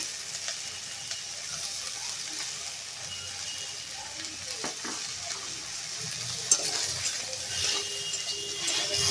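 Taro and potato fry in a pan for a rohu fish curry, giving a soft, continuous sizzle with faint scraping and stirring, moderately close and steady.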